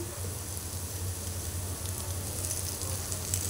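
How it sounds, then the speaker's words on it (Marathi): Alu vadi slices shallow fry until golden in oil in a pan, giving a steady, even sizzle and crackle that carries on without a break. "छानपैकी शालो फ्राय करून घेऊया दोन्ही बाजूंनी"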